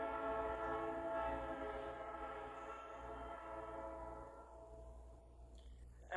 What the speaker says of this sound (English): That was a train going by.